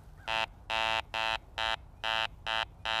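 A Garrett ACE 400 metal detector sounds a string of about seven short, buzzy low electronic tones signalling iron, in an even rhythm, fairly quiet against faint background hum.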